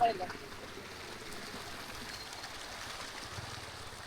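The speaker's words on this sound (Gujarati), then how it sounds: "અહીંયા જુઓ કેવું પાઇપ આ ધોધ છે ને એના પાઇપ લગાડેલો છે" Steady rushing water flows continuously at moderate level from a pipe fitted at Andhari waterfall near Mota Khokhara, Bhavnagar, a constant wash of noise with no break.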